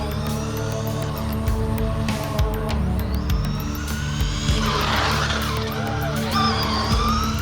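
A high, whiny differential gear tone climbs and falls as a small RC10T RC truck speeds around, mixed with gritty tire and gravel noise.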